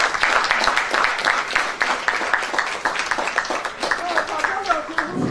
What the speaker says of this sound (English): A round of applause for Mommy, please.